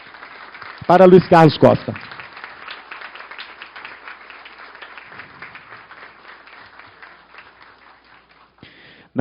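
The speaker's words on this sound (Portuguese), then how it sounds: "Eu queria pedir uma salva de palmas para" An audience applauds at an academic induction ceremony, rising right after a speaker announces a name and then fading gradually into a soft, diffuse patter.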